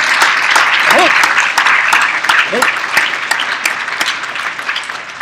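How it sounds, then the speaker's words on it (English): Audience applause for Cynthia at a conference session, a loud, dense wash of clapping from a gathered crowd with a few brief voiced calls rising above it, holding strong before slowly easing off. "a round of applause for Cynthia"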